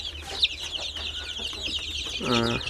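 Ten-day-old chicks cheep in a continuous high chorus, with soft clucking mixed in and a louder, drawn-out call near the end, all close by.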